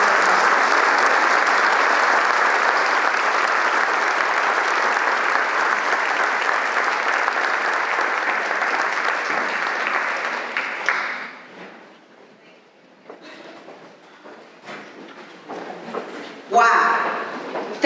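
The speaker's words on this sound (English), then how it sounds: "So if you guys could give her a round of applause" An audience applauds Catalina Stubbe, Moms For Liberty national director, in a dense, loud wave of clapping that fades away after about eleven seconds, leaving scattered claps and room noise before a brief renewed burst.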